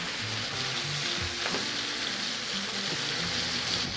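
A steak sears in a cast iron skillet with a steady, loud sizzle and crackle, continuous throughout with no voices.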